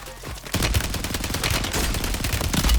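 Rapid automatic gunfire in Call of Duty Warzone, a steady loud stream of shots close up that runs almost unbroken for several seconds.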